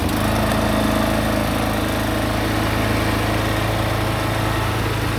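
A Toro Timemaster lawn mower engine running after a recoil start, loud and close, a steady buzzing idle with a rapid pulsing beat that holds evenly throughout without talk.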